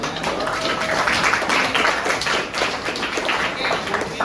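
An audience at a youth public-speaking event applauds, with dense, continuous clapping from many hands, loud and sustained throughout.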